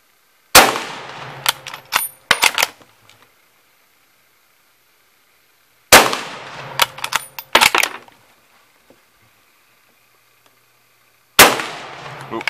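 A French MAS 36 bolt-action rifle fires three sharp, loud shots about five seconds apart, each followed by quick metallic clanks of bolt cycling and brass dropping, with silence between.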